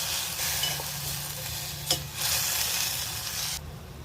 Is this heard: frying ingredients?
yes